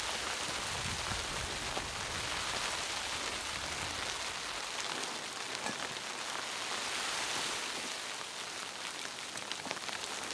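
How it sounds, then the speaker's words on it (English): Sleet falling steadily on a mountain campsite during a snow storm, a dense, even hiss of icy pellets pattering on surfaces all around, close and constant with no voices. "It's sleet."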